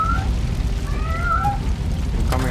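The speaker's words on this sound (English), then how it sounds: "I hear a cat." Cat meowing in the RoboCop video game, with a few short rising and falling meows over a loud, steady rumble of background game noise.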